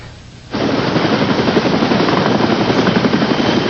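A loud, steady Care Flight rescue helicopter drone at a brush fire suddenly starts up and continues with a rapid chopping pulse, close and constant.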